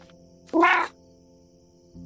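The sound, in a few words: cat meowing in a video game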